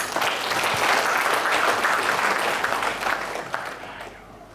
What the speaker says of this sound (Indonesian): Mari kita beri aplaus untuk mereka